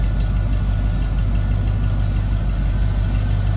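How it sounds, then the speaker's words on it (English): A 1961 Ford F100 street rod idles with a mild exhaust tone, a steady deep rumble with a regular low pulse, close by and continuous throughout with no talking. "So nice sounding exhaust, nothing crazy over the top"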